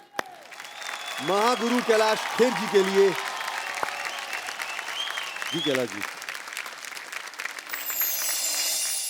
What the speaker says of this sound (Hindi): भाई जोरदार तालियां हो जाएं हमारे